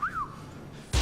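A short rising-then-falling whistle from a person at the start, followed by quiet and then a sudden loud thump near the end.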